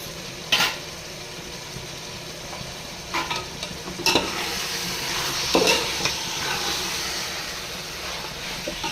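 A spoon stirs and mixes biryani with ghee in a pot, giving a soft continuous sizzling hiss punctuated by several sharp scraping knocks against the pot, with no voices.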